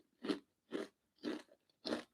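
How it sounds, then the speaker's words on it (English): Four loud, crisp crunches of someone biting and chewing food, evenly spaced and close, in a quiet setting. "that's a very loud crunch."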